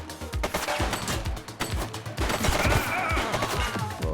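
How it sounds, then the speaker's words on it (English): Rapid bursts of gunfire from a suspect shooting in the police game The Precinct, with dense overlapping shots and sharp repeated cracks running nearly continuously, loud and close. "She's shooting!"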